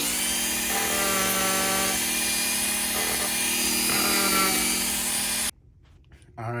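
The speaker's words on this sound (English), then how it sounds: "Getting that off with the Dremel." A Dremel rotary tool grinds a thick old gasket off a boat engine part, a steady high whine with slight pitch shifts for about five seconds, then cutting out abruptly to near silence before a brief return.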